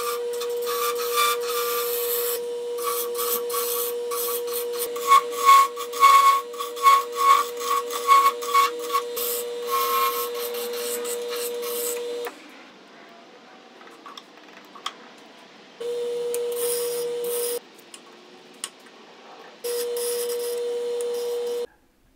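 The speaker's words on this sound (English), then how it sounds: "I used the round carbide turning tool to make a smooth curve between the roller and its handle." Wood spinning on a lathe while being shaped with a round carbide turning tool, a steady motor hum with scraping and rubbing of the cutter against the wood, stopping and restarting several times, fairly loud and close.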